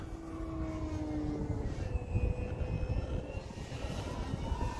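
An Arrows Husky 1800mm RC airplane flies a downwind loop, its electric motor and propeller giving a continuous droning whine at moderate distance, with the pitch sliding as the plane climbs and turns.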